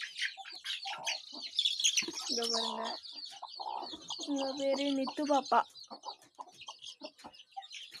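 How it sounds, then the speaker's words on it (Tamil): Chickens in a coop cluck and call repeatedly at close range, with small and large birds making overlapping sounds, while a person speaks over them. "கோழிலாம் உள்ளே வந்து அடைக்க வந்திருக்கோம்"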